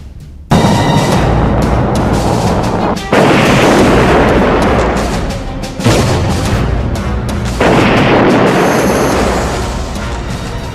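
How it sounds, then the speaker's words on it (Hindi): Missile strikes and explosions from wartime footage in Ukraine, a series of loud, sustained booming blasts with deep rumbling and crackling debris, several distinct detonations following one another with no voices present. "पहली मिसाइल, दूसरी मिसाइल"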